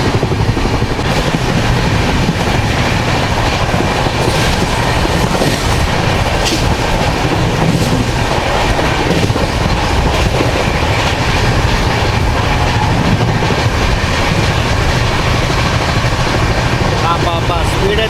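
The Tirumala Express 18522 runs from Guntakal toward Visakhapatnam with a steady, loud rumble and clatter of wheels on rails that continues throughout, with faint voices underneath.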